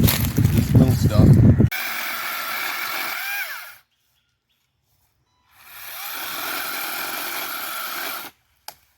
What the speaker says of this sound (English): All I have is this tiny little electric chainsaw